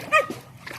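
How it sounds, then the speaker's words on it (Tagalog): Dogs bark in a short burst near a seashore, one sharp yelp followed by fainter yips, heard from a moderate distance with no talking. "Yan yung mga aso guys."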